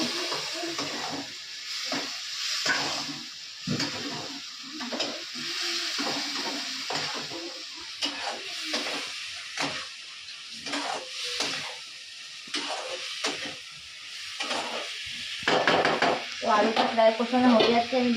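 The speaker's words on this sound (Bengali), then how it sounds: "তো এখন আমি আলুগুলো দিয়ে দেবো এর মধ্যে" Potatoes frying and being stirred in a pan in a home kitchen, with a steady sizzle and repeated scraping stir strokes running throughout, close and moderately loud.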